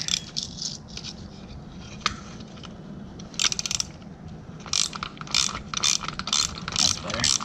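A nut on an ATV recoil starter being loosened with a ratchet wrench gives rapid, close clicking bursts, repeated in quick runs with short pauses between.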